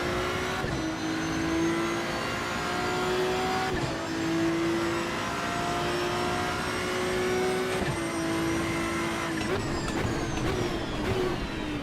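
A race car engine in the Assetto Corsa Evo racing game drones loudly and continuously, climbing in pitch through each gear before dropping at several shifts, with no talk over it.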